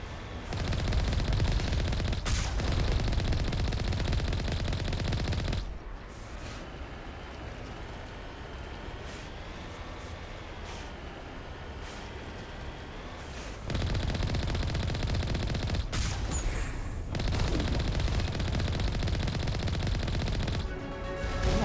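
Gunfire in the Mass Effect game arrives in loud, sustained bursts of rapid automatic fire, broken by a quieter stretch of muffled rumble before the heavy shooting resumes, with no talk.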